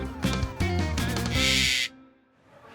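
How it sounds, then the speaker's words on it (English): A parrot at a cafe screams loudly in a few harsh, rising calls, ending in a sharp shriek before a short quiet tail. "an actual screaming parrot"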